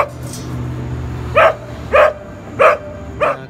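Dogs barking: four sharp, loud barks spaced roughly half a second apart, rising clearly above a steady low background hum.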